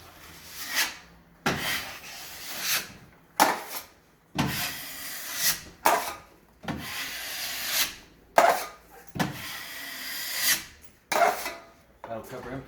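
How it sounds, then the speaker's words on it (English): A drywall knife spreads the last coat of joint compound across a drywall joint, giving about ten close, rhythmic scraping strokes separated by brief pauses. "Last coat of mud will be put on,"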